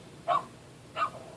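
Dogs bark twice outdoors during a March 2013 blizzard, two short sharp barks about a second apart at a moderate distance, with no talking.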